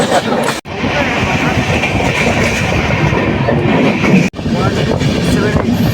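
Mahananda Express (train 12378, Haldibari to Sealdah) rolling along with a steady, loud clickety-clack of wheels and carriage rumble, briefly cut twice, with faint voices mixed in.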